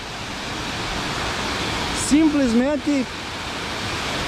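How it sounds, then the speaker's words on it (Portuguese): Waterfall of the Chico Fontana falls on a large, high-volume river in Jaguariaíva, Paraná, a steady broadband roar filling the whole clip while someone speaks briefly over it. "Cachoeira do Chico Fontana, aqui em Jaguariaíva, no Paraná."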